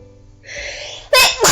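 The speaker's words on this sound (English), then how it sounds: "I'm gonna sneeze again." A woman's loud, close sneeze from a Katawa Shoujo visual novel scene, a sharp wind-up followed by two bursting sneezes over a faint background music bed.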